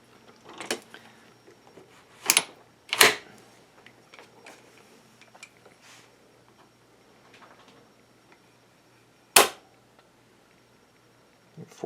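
Kel-Tec PMR-30 pistol trigger pulled against an RCBS trigger pull gauge: a few sharp, close clicks and snaps separated by quiet gaps, with faint handling ticks in between.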